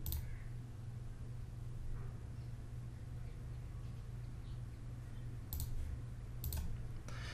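A computer mouse gives a few sharp, isolated clicks, one at the start and a quick cluster near the end, over a quiet low hum in a still room.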